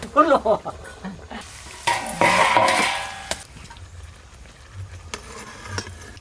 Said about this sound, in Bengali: আর এক পিস আছে ভেজে নিলেই হয়ে যাবে